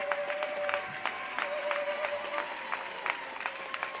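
Audience applause at a national service event in Ngiri Ngiri, dense steady clapping from a crowd with occasional louder claps standing out.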